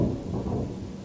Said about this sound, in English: did y'all hear that? It's raining outside.